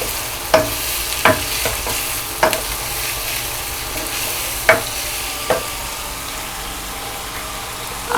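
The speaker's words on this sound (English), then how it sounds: "I'll add the fresh tomatoes that have already sliced. and still give it a stir." Sliced fresh tomatoes are stirred into a frying pot for a Nigerian chicken vegetable dish, a low steady sizzle with several sharp spoon knocks and scrapes scattered across the stretch, close and clear, with no voices.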